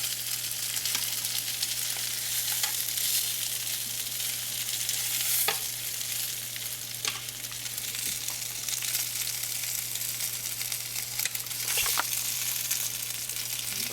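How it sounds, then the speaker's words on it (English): Rabbit pieces browning in a frying pan give a steady, close sizzle and hiss that runs the whole time, with occasional sharper crackles and spits over the dense frying noise. "All we're doing is browning them."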